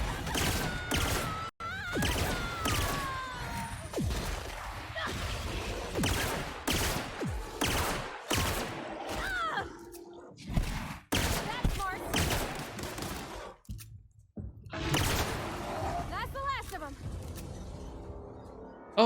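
Sustained game gunfire from Outer Worlds, dense bursts and single shots crowding most of the stretch, loud and close, with a few short gaps and talk running underneath.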